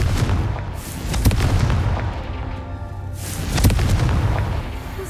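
Confringo fire spell blasts in the wizarding game Hogwarts Legacy, rumbling booms with two louder bursts about a second and three and a half seconds in, over dense low game noise.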